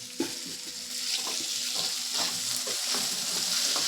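Onion, ginger and spices fry in hot oil for a spinach dish, giving a steady close sizzle broken by scraping stirs and soft clinks, with no talking.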